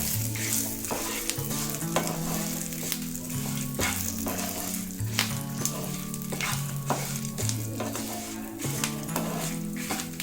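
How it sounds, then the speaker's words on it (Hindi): Curry leaves and spices roasting in a pan for masala rava idli give a steady frying sizzle with occasional stirring clinks, running throughout under background music. "अभी हमें सारी चीजें अच्छे से रोस्ट कर लेनी है।"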